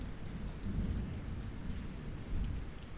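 Steady monsoon rain pours through the night, with low thunder rumbling and swelling twice beneath the constant wash of drops.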